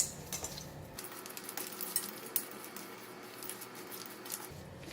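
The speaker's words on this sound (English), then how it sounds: "Then we just mix it." Thai mango salad with groundnut, fish sauce, anchovy and red chili being tossed together, giving soft wet stirring and light clinks of utensils against a bowl, fairly quiet and close with no voices.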